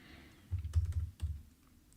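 Keystrokes on a computer keyboard while writing code, a short burst of soft clustered taps followed by a second brief burst and a sharper click at the end, close and quiet.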